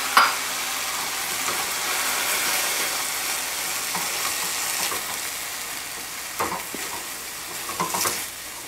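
Stir-fry sauce sizzles and hisses in a hot pan with wilted dandelion greens, a steady close frying crackle with occasional stirring scrapes and clinks.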